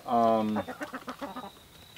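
A chicken gives a long, loud squawk, then a string of short, rhythmic clucks fades in and out close to the microphone.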